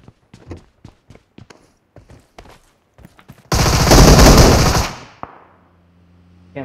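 Loud burst of automatic gunfire in PUBG, a sustained rattling volley of about a second and a half, preceded by a string of sharp, spaced single shots or footsteps and followed by a fading rumble and faint low hum.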